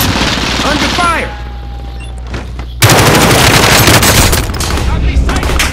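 Machine gun fire in Call of Duty: Modern Warfare, starting after a short radio-style voice line and then erupting into loud, dense, rapid bursts that continue to the end amid other battle noise.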